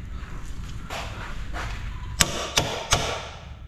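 Three sharp, close hammer blows land in quick succession near the end, after softer knocks and shuffling at the start, during repair work on a Ford Transit van.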